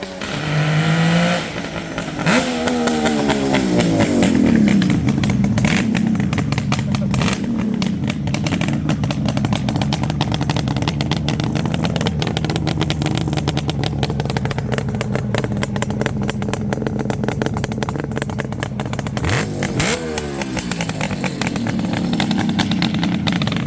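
A high-pitched 1972 Suzuki GT750 liquid-cooled three-cylinder two-stroke motorcycle engine revs and crackles loudly through its pipes, rising and falling through gear changes, then settles into a steady raspy drone before another sharp rev.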